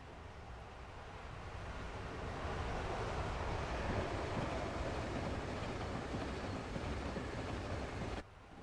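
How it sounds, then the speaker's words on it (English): A GG1 electric locomotive in a train simulator hauls a rake of tank cars with a caboose, a steady rumbling roll with wind-like rushing that swells and holds, then drops off abruptly. "Another GG1 hauling a rake of tank cars with a pretty little caboose on the back."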